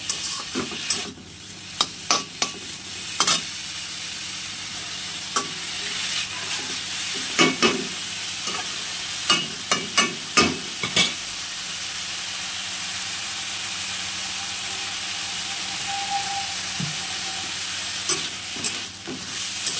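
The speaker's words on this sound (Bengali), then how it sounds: "চলো, এই দেখো এই শাকটা এই যে প্রায় ভাজা ভাজা হয়ে গেছে" Mature leafy greens fry in a pan over a steady hiss of sizzling, punctuated by repeated sharp scrapes and clacks of stirring, close and without talk.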